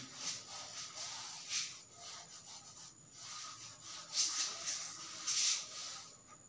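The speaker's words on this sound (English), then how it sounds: "Now I am rubbing here" Rubbing strokes on paper, a steady run of soft brushing scrapes with several louder swells, close and alone without speech.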